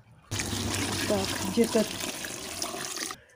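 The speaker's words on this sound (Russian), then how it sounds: "Сейчас эту воду я наливаю вот сюда." Warm water poured from a bucket into a container for washing feathers, a steady close trickling splash lasting about three seconds, with a voice speaking briefly over it.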